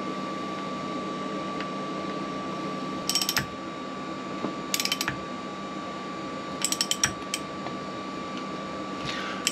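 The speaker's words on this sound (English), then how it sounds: "We'll put these new bolts in with some triple guard grease." Metal bolts are threaded and tightened with triple guard grease into the aluminium impeller housing of an Evinrude Etec outboard lower unit, giving short bursts of close ratcheting clicks over a steady background hum.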